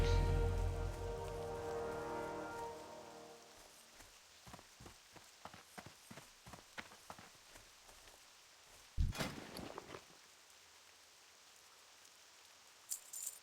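Rain falling in World of Warcraft Classic, a steady patter on surfaces that fades under light in-game footsteps and small clicks, with a brief louder burst partway through.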